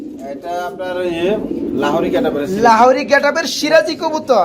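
A pair of pigeons at a pigeon sale coo in repeated throaty, rolling calls close by, while people talk over and between the birds.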